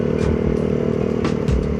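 Motorcycle engine on a road trip near Tagaytay, a close, steady idling rumble with light clattering and a few brief scraping noises, no voices.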